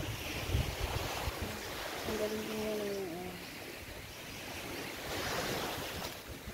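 Sea surf and gusting wind on Bangay Bangay Beach in Salay, Misamis Oriental, a steady broad wash of waves and breeze filling the whole stretch, with someone speaking briefly and a faint tonal sound passing midway.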